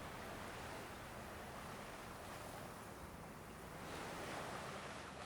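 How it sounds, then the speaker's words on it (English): Surf breaks and washes steadily onto a narrow black sand beach at a seaside town on Bali's north coast, a continuous broad roar that swells slightly near the end, with no voices. "Livina has a narrow black sand beach."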